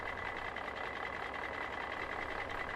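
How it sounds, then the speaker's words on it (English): A green and yellow tractor engine runs in a steady, unbroken drone that holds at an even level throughout, with no talk over it. "It's a tractor."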